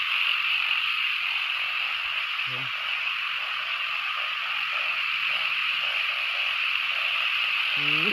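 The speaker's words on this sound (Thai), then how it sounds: "ร้องดังมากครับผมเสียงเขียด เสียงดังจนแสบหูครับ" Loud, dense frog chorus at the end of the rainy season, a continuous shrill calling that fills the whole clip without a break, with a couple of brief low croaks standing out near the start and the end.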